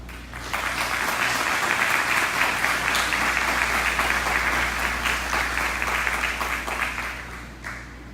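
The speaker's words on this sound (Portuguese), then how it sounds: "Então vamos chamar ele aqui com uma salva de palmas." A church audience in Brazil gives a warm round of applause to welcome a speaker. The clapping is dense and continuous over a low hum and fades slightly at the end.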